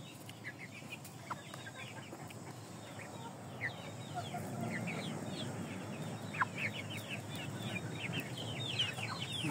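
Indio Gigante chickens, a rooster among several hens, cluck and chirp in a steady scatter of short calls over low outdoor rumble, moderately close with no talk.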